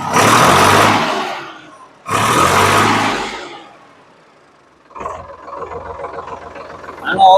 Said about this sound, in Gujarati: આપણે ટ્રેક્ટર કરીએ ચાલુ.